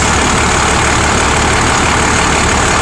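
A Cummins diesel engine swapped into a truck in place of a V10 runs at a steady idle, a loud, constant, unbroken rumble close by with no voices.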